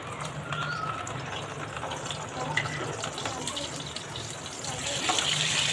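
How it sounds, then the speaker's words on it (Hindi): Ginger garlic paste frying in half a cup of hot oil for a chicken malai kofta gravy gives a steady, close sizzle and hiss that runs throughout, swelling slightly near the end, with a soft voice faintly underneath. "इसको मैं अच्छी तरह से भून लूँगी अदरक लहसुन के पेस्ट को।"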